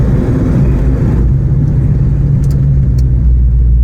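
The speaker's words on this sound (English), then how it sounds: "This is like daily driver type quality exhaust right now." Low-RPM exhaust rumble from a daily-driven car, a steady deep drone filling the cabin at close range, loud and continuous with no talk over it.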